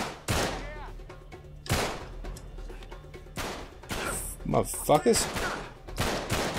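Gunfire in the video game Uncharted 3 cracks out as several sharp, loud shots spaced a second or so apart, then a quicker burst of rapid fire, with a man cursing between shots.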